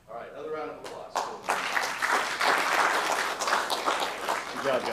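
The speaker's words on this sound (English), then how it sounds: "All right, another round of applause." Audience applause at a city council meeting, starting after a brief opening of voices and building into steady, fairly loud clapping from a seated crowd that continues to the end.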